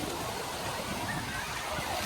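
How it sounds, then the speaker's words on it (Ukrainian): Water from a big tipping bucket at a water park at a resort: a steady, loud rushing and splashing wash that fills the whole short span. "От відро з водою."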